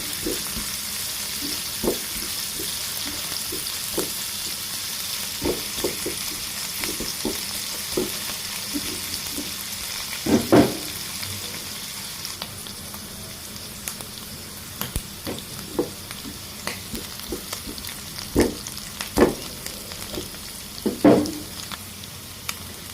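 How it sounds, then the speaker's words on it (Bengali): Small shrimp and potatoes fry in a pan in a village-style home kitchen: a continuous hiss of frying punctuated by sharp clacks and scrapes of stirring. "এগুলোকে ভালোভাবে ভেজে নিতে হবে"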